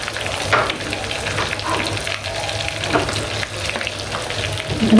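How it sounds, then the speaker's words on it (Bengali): Chicken pieces frying in oil for chicken chaap make a loud, steady crackling sizzle up close, with soft stirring scrapes and no speech. "মুরগিটাও ভাজা হয়ে গেছে"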